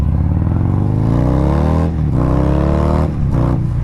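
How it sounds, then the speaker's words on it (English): A Harley-Davidson Fat Bob 117 with an S&S slip-on exhaust revs hard and close, the V-twin note climbing steadily before two quick blips near the end. "The note on this bike is absolutely awesome."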